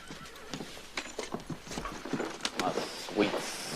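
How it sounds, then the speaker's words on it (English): A horse outside clops its hooves in an uneven rhythm and lets out neighs and whinnies, moderately close, with voices talking over part of it. "The horse is outside."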